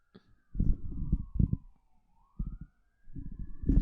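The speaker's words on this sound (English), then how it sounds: "There's sirens." Police siren wailing outside, a faint, steady rising and falling tone heard at a distance, partly masked by close conversation in the room.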